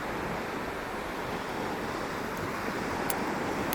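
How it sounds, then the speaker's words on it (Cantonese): Sea waves at Shek O beach in Hong Kong wash in a continuous broad rushing roar, steady and fairly loud, mixed with wind on the microphone and no voices. "安靜享受一下呢個海浪嘅聲音。"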